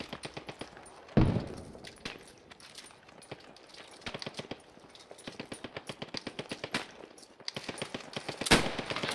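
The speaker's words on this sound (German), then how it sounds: "warum steht da Drecks Panzer und schießt da die ganze Zeit rein?" Repeated in-game gunfire from a tank and other weapons in the WWII shooter Post Scriptum: a dense, continuous stream of sharp cracks and rapid bursts, with a heavy blast early on and another loud report near the end.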